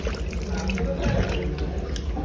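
Tap water runs in a steady, fairly loud, broadband gush as water is drawn during a household Hindu fasting ritual, continuing evenly throughout.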